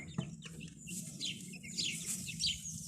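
Chickens and a rooster in a backyard run, clucking and chirping steadily while they peck at feed, with a continuous low murmur of fowl and sharper calls rising over it.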